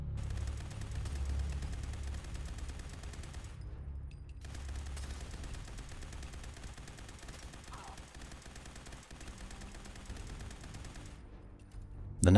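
A modded heavy weapon in Fallout 4 fires in sustained rapid bursts, dense and loud, with a short pause partway through before the shooting resumes.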